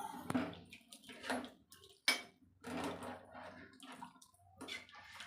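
Water from a small glass is poured into soaked rice in a pot for homemade hotel-style chicken biryani: short close splashing pours broken by light clinks of the glass against the vessel, without talk.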